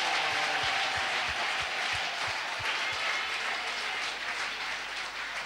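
A church congregation at a prayer service applauds and cheers for God, a steady wash of clapping and crowd noise throughout, with a few low thumps underneath.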